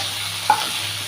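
Banana flower curry with fried potatoes and boiled chickpeas being stirred in a pan: a single brief scrape of the spoon over a steady, low background sizzle.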